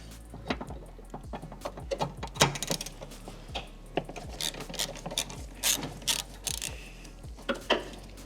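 A hand ratchet turning a 10mm socket on a long extension, working the side bolts of a car's airbox: rapid, close clicking pawl strokes in uneven bursts, with no talking.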